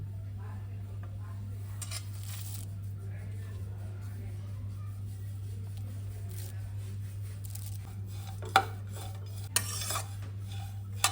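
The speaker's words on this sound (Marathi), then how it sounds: "त्याच्यामध्ये आपण बदामाची कातरण आणि चारोळी थोडीशी फ्राय करून घेऊया" Almond slivers and charoli nuts are stirred in a pan after roasted coconut, dry scraping and spoon taps against metal over a steady low hum, with a few sharp clinks near the end and brief speech.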